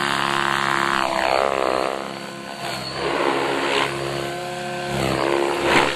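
A Joker 3DD RC helicopter with a dual motor drive, two independent controllers in governor mode on a 4S 2500 mAh battery, holds a steady loud electric whine with rotor buzz, swelling and dipping slightly as the speed shifts.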